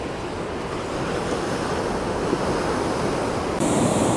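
Ocean surf washes continuously along the Sleaford Bay coastline, a loud, broad roar of breaking waves mixed with gusting wind buffeting the microphone.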